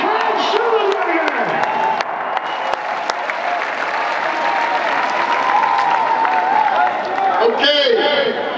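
Crowd at a Washington State University pep rally applauds and cheers in a loud, continuous wash of clapping with whoops, while an amplified voice speaks over it near the start and end.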